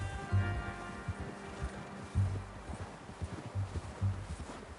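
A horse's hooves clip-clop at a walking pace in Red Dead Redemption 2, close and clear with a steady repeating rhythm of soft thuds over a quiet outdoor background, no talking.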